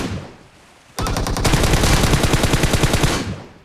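Gunfire in a shooter video game: after a quiet lead-in, a loud, sustained automatic burst with tightly spaced rapid shots runs for over two seconds before trailing off.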